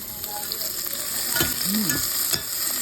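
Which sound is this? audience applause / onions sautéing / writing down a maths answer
onions sautéing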